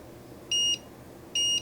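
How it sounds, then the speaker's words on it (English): A multimeter gives two short, steady electronic continuity beeps about a second apart while conductive ink is tested on a PS2 controller repair, clear and close. "you should get a solid beep from your multimeter"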